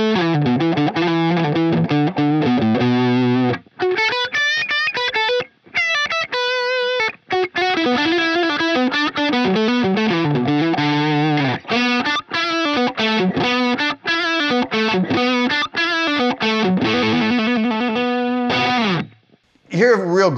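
A Line 6 Variax guitar on its 335 semi-hollow setting runs through a Line 6 Helix amp model and compressor, playing a gritty, slightly distorted lead phrase of bent notes with short pauses, clear and upfront.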